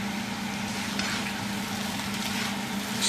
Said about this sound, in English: saute the kidney bean